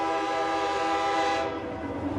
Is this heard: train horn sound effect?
yes